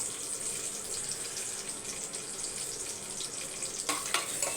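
Cashews and raisins frying in ghee for carrot payasam give a steady, soft hiss and crackle, with a few sharper clinks near the end.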